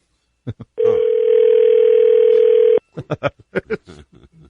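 A telephone call rings through toward voicemail: one long, steady ring tone holds for about two seconds, with short bursts of talking just before and after it.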